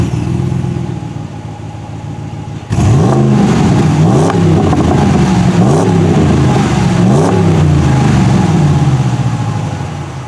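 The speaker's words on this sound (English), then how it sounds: "let's give you an exhaust clip" A 2020 RAM 1500 Big Horn K2 Rocky Ridge lifted pickup truck with large exhaust pipes idles with a low rumble, then revs loudly several times in rising and falling sweeps close to the exhaust, with no talking.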